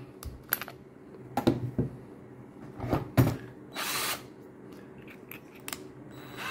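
The chuck of a Parkside PABS 20-Li E6 cordless drill is tightened in a series of sharp, close mechanical clicks and ratchets, irregularly spaced, with one short whirring burst in the middle; no talking.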